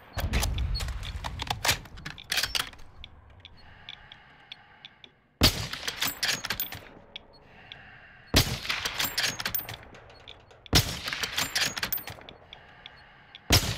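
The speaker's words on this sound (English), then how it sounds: "Someone else is shooting them too." Video game gunfire crackles in three dense bursts of rapid shots, loud and close, with quieter pauses of distant popping between them.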